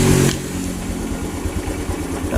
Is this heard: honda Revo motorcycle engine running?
yes